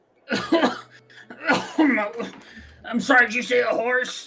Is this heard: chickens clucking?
no